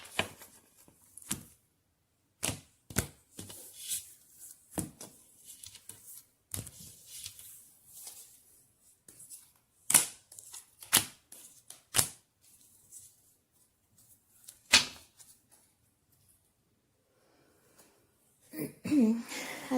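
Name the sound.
shuffling a deck of tarot cards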